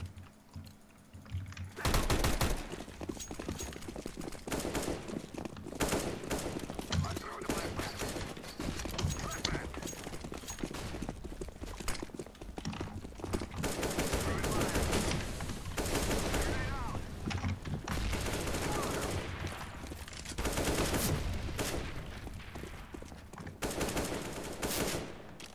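Rapid bursts of Counter-Strike: Global Offensive gunfire crackle repeatedly in clusters, with people talking over the shooting throughout.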